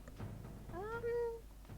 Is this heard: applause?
no